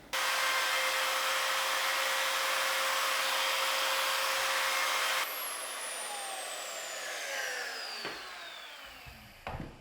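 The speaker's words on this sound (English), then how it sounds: "I just need to route out where it was marked previously." A router cutting hinge recesses into a custom wooden interior door whines loud and steady close by, then shuts off and spins down with a falling pitch, followed by a few faint knocks.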